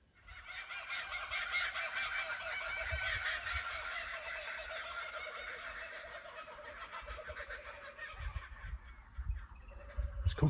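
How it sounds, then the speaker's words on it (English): A dense chorus of raucous, cackling kookaburra calls rises and falls continuously, loud and layered, with many birds calling over one another outdoors beside the Murray River. "It's kookaburras having a good old laugh."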